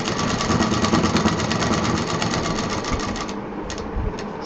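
A sewing machine stitches a handbag with piping and lace along the side, giving a steady, close, rapid mechanical whirr that runs almost without a break and eases slightly near the end.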